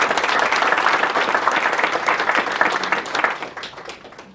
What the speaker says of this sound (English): So that in itself deserves a round of applause.